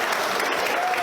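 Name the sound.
applause for the wedding venue staff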